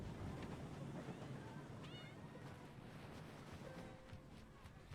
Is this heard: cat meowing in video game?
yes